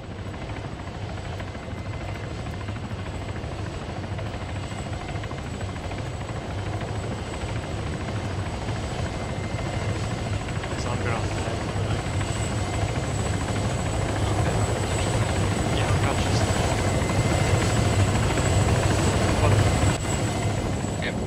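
A helicopter in the military video game Arma 3 drones continuously close by, its rotor and engine a steady loud rumble with a high whine on top, building slightly over time.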